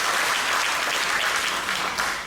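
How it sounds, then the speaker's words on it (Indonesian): Dense audience applause at a stand-up comedy show, loud and continuous throughout with no talk over it. "Boleh minta tepuk tangan dulu buat semuanya yang hadir di sini"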